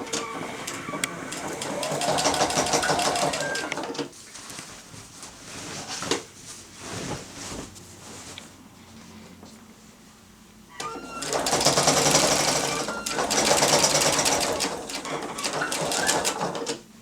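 A sewing machine stitches piping binding onto a quilt in two bursts of steady whirring run, separated by a quieter stretch where a voice talks.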